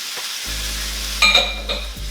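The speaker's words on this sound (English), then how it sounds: "the broccoli is kind of being mixed in with this garlic and butter" Broccoli frying in garlic butter in a pan, a close, steady sizzle with a few scraping stirs and clinks partway through, without speech.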